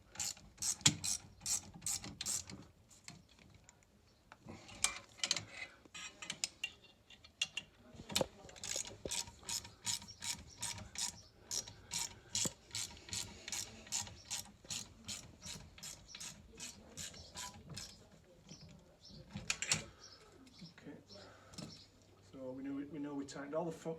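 A ratchet clicks in quick bursts as bolts are tightened on the motor and gearbox of a Stannah 600 stairlift, with close sharp pawl clicks coming in repeated runs and pauses between them.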